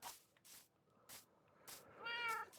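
A cat in the Minecraft video game gives several short meows in quick succession, fairly quiet and alone, the last one drawn out and higher.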